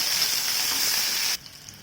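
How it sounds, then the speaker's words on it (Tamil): Sliced onions sautéing in oil for a roadside-style kurma make a steady hissing sizzle that cuts off abruptly, leaving near silence with a couple of faint clicks. "வெங்காயம் கொஞ்சம் பொன்னிறமாகட்டும், அது வரைக்கும் நல்லா வதக்கி விடலாம்."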